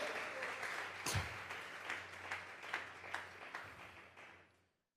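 A church congregation at a Sunday service claps together as an offering of praise, a steady patter of many hands at moderate distance that swells briefly and then tapers off into silence.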